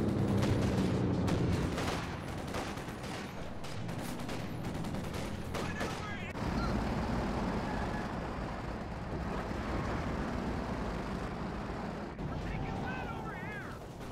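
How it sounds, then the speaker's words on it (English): Light machine guns firing on the move in Company of Heroes 2, a dense wash of overlapping gunfire and battle noise that swells at the start, stays loud and continuous throughout, with a commentator talking over it. "They can fire LMGs on the move."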